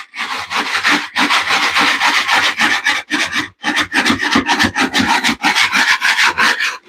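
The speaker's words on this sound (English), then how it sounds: "now just using my drywall mud knife to scrape this floor" Drywall mud knife scraping a flood-damaged floor, loud close rasping strokes in long repeated passes with brief pauses between them.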